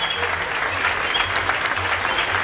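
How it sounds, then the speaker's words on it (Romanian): A crowd claps steadily and densely at a children's school show, a sustained wash of applause with no speech over it. "Aplauze, vă rog, susținute."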